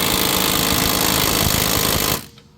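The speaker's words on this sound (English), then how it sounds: "We put a 19 millimeter on that impact, broke it right loose." Pneumatic impact gun hammering steadily on a 19 millimeter control arm bolt on a Toyota Tacoma, a loud continuous rattling burst that cuts off abruptly near the end.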